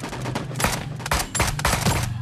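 Gunfire in Sausage Man comes as rapid bursts of automatic shots in quick, uneven clusters, loud and close, over a low background hum of game noise.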